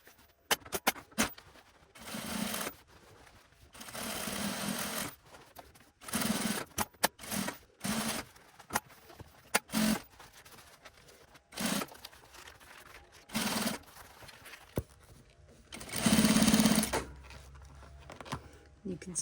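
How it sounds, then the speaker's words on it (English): A home sewing machine stitches the hem and neckline of a sewn vest in repeated short bursts of whirring, each a second or two long, separated by pauses with a voice talking between runs. "go over to the opposite side and sew up again"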